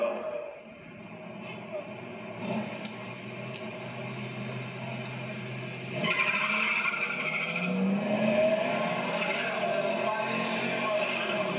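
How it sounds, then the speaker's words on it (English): A 1967 Camaro SS with a 327 engine launches at a drag strip. A steady engine and tire roar swells louder midway, with voices in the background. "Chris playing out of Elko, Michigan with a 67 327 Camaro."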